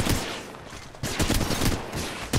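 Rapid bursts of gunfire from a firefight in Apex Legends Mobile, loud and dense, with a brief lull before another volley of shots.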